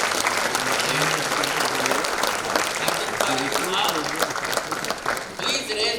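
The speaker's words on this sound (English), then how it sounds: "I think clap for you all" A convocation audience for a PG MD/MS batch applauds continuously, many hands clapping at steady strength, with a voice speaking over the clapping.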